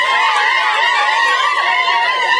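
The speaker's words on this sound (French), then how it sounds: "Applaudissez!" A crowd keeps up loud, continuous applause, steady clapping with a few voices cheering through it.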